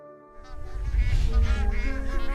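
Migrating geese at Pong Dam on the Beas River, Himachal Pradesh, a loud close flock honking in overlapping nasal calls that build quickly and continue densely.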